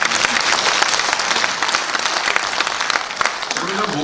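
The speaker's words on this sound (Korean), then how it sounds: "우리 서로 격려하는 뜻으로 박수를 한번" An audience at a Korean Rotary centennial gathering claps, a dense and sustained round of applause filling the room at a steady level from start to finish.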